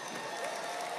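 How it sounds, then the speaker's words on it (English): Church audience clapping and cheering for a volunteer called up on stage, a dense steady patter of applause with a faint tonal voice threading through, moderately loud. "Cheer them on."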